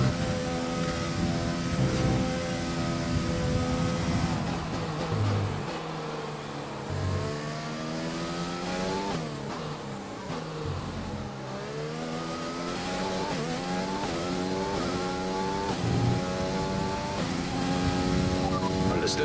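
A Formula 1 car engine in the F1 2020 racing game revs loudly and steadily throughout, rising and falling through gear changes, with a voice speaking over it.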